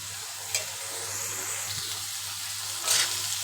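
Shredded chicken meat fries in a pan, giving a steady, close hiss of sizzling oil with a couple of brief stirring scrapes near the start and end.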